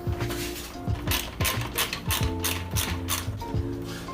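A ratchet clicks rapidly while loosening 10 mm screws on a 2008 Kia Sportage radiator, with repeated short bursts of metallic pawl clatter and brief pauses between strokes, close and loud.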